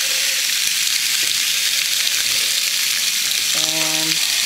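A rib eye steak searing in a hot pan gives a loud, steady hiss and crackle of frying fat, continuous throughout, with a faint brief tonal chime near the end.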